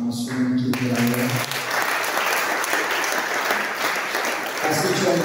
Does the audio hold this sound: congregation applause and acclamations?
yes